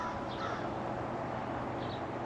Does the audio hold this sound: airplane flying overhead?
no